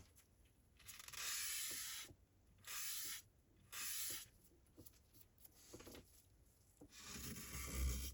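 Knife with a broken tip being ground on a Hapstone sharpening stone, giving rough, aggressive rasping strokes in several separate bursts with short pauses between them, close and fairly loud.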